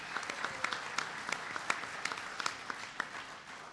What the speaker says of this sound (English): So give him a round of applause, the Secretary of Commerce.